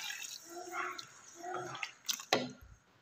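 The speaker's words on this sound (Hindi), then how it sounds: "ये 2 प्याले मैं अब इसमें पानी शामिल करूँगी" Water is poured into a bowl of soaked rice for chicken pulao, heard as quiet irregular splashes and trickles with a few sharper drips near the end.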